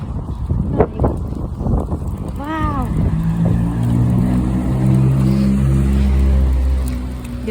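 A car rolls in along a village road on a rainy, windy day, its engine rising into a steady low rumble that swells and holds close by, with voices talking over the start.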